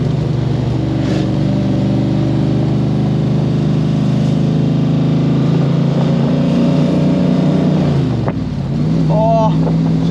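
A Cobra sports car's engine roars hard under throttle, a loud sustained drone with heavy wind rush that dips and shifts pitch near the end.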